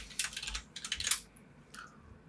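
Quick bursts of keystrokes on a computer keyboard while a text layer is being typed in editing software, a few clustered clicks near the mic with brief pauses, then fading out, no talking.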